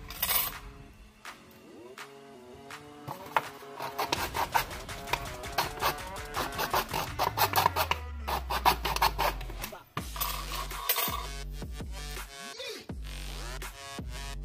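A plastic water can being cut for a homemade bicycle sound device: repeated rough rasping, sawing strokes at close range, uneven in pace, with a few knocks and scrapes and a low droning hum partway through.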